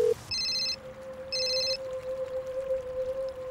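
A telephone rings over a speakerphone, two bright electronic trill bursts separated by a pause, with a steady tone continuing underneath, fairly close and clear in a quiet room.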